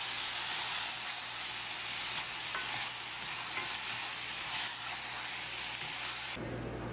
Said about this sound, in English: Once the seasoned meat is added to the pot, you're going to just stir it up